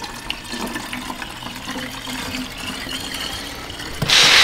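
Coolant, a 50-50 mix, pours into the radiator of a 2018 Chrysler 300 in a shop, a steady close liquid gush with no one talking, ending in a louder splashing burst.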